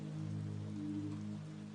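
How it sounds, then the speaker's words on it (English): Heavy storm rain pelts the windows of an old manor in a steady, unbroken wash, held under a low continuous drone. "The storm outside intensified, rain pelting the windows like a furious tide."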